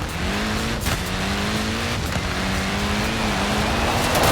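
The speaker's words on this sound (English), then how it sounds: "Look at that, laying down some rubber there." Mini Cooper on tiny wheels in Forza Horizon 4, tyres squealing in a steady, sustained screech over a continuous engine drone, loud and close throughout.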